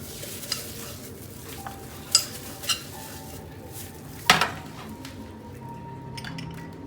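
Mutton ribs fry in a pan while being stirred with crushed green and dried chillies, producing a low continuous sizzle broken by several sharp metallic scrapes and clanks of the utensil, without speech.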